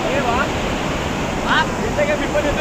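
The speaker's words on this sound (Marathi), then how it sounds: "खूप असं मोठ्या प्रमाणावर पाण्याचा विसर्ग होतो" A heavy, constant roar of water discharging from a dam spillway after heavy rain, loud and unbroken, with a voice faintly speaking over it.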